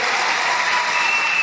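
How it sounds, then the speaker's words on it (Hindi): Crowd applause at a Jalore public rally where Amit Shah spoke in support of Jogeshwar Garg in Sayla, a loud, dense, steady clapping that fills the whole brief moment with no voices over it. "बहनों ताली बजाओ एक बार जोर से"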